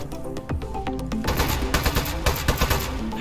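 Rapid gunfire from a desk-mounted shooter in the video game Aperture Desk Job, a loud, dense stream of repeated shots with a short pause and then continuous firing, close and alone.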